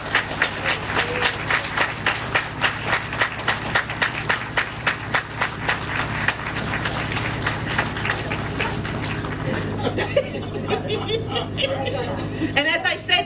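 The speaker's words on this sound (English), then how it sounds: "let's give this woman a thunderous round of applause" Sustained applause from a school moving-up ceremony audience, many hands clapping steadily and fairly close for most of the stretch, thinning toward the end as scattered chatter and voices come through.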